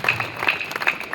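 Brief burst of audience applause for a poem at a poets' gathering at Gandhi Maidan, Kawardha, with scattered claps and a steady high ringing tone over a moderate crowd wash.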